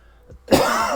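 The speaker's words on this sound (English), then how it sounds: "I'm coughing like crazy" A single sharp cough bursts out close and loud after a brief quiet moment, with a rough, throaty burst that trails off.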